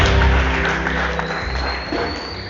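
Church congregation applauding during a worship service, a loud, steady wash of clapping that slowly fades, with a low hum underneath.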